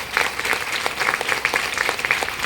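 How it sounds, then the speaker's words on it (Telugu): An audience claps at a ceremony honoring a couple, a dense, steady patter of many hands sustained throughout at moderate loudness. "గట్టిగా ఒకసారి చప్పట్లు కొట్టండి"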